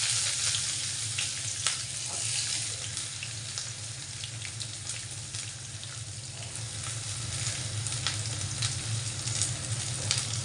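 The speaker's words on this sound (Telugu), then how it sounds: "ఆనియన్స్ కొంచెం ఫ్రై అయింది" Onions frying in a pan with a broad, steady sizzle heard up close, with faint scraping stirs now and then and no talk over it.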